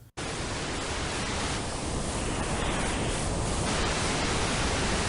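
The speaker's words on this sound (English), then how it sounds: "There's also audio to accompany this page, which is just 5 seconds of rather loud white noise." Loud, steady white noise hisses without a break for about five seconds, beginning abruptly and cutting off sharply at the end.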